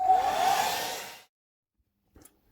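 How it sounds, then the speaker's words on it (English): A handheld hair dryer blows over a PVA-glued playing card, giving a steady close whooshing roar that cuts off after about a second, followed by silence and a couple of faint clicks. "just get your hairdryer out again"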